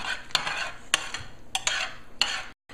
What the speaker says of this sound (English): I have my egg and milk mixture that we're gonna pour on this and stir it together